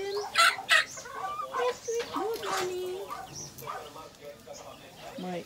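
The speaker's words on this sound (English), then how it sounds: "Hi, chicken. Good morning. How are you, chicken?" A backyard chicken clucks a few times while a person talks to it, with the clucks partly under the voice.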